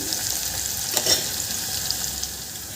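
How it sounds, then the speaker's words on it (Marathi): Chopped onion sautéing in a pan for spinach pulao sizzles steadily and loudly at close range, with faint stirring scrapes and no voices. "याचा छान गोल्डन कलर येतपर्यंत आपल्याला याचा कच्चेपणा जातपर्यंत छान परतून घेते मी"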